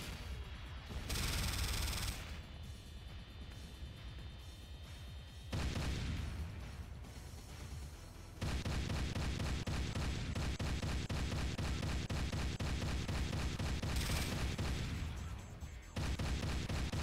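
Gunfire in the PC game Command & Conquer: Renegade comes as dense, sustained bursts of rapid shots and booming impacts, loud and continuous with brief pauses between volleys.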